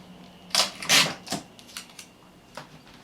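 Adhesive tape is pulled off the roll and torn while a wine bottle is gift-wrapped, a few close, crisp ripping bursts followed by lighter crackles and taps.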